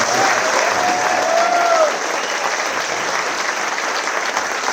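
An audience at a charity concert applauds a primary school children's choir, loud, dense clapping that holds steady throughout, with a faint whistle near the start.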